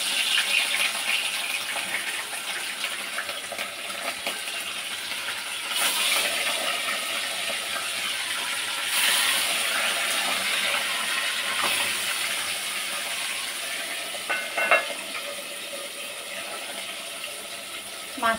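Fish fries in hot oil in a wok with a steady, loud hiss and sizzle that runs throughout and swells now and then, with no voices.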